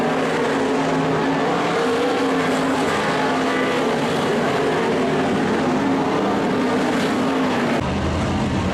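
Race cars roar around an oval track during a heat race, a continuous loud mass of engines blending together with no talk.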